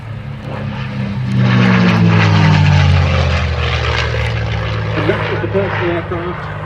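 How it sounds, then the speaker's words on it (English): P-51D Mustang fighter flying at the IWM Duxford D-Day anniversary airshow, its propeller engine droning loudly and steadily as it passes, the pitch sliding downward, with a commentator talking over it. "It's painted as a P51D with the name Jersey Jerk on the nose."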